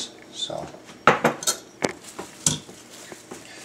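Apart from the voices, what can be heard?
stirring bread dough mixture until homogeneous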